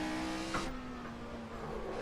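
A race car engine in the Assetto Corsa driving game pulls hard in third gear, a steady sustained drone with a brief rise partway through, heard alone with no talk.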